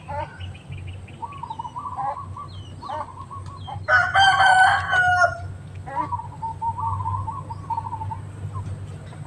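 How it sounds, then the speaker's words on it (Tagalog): Hens cluck and chatter close by while a rooster lets out a loud, drawn-out crow in the middle; steady low hum underneath. "Ang ingay ng mga manok ko eh."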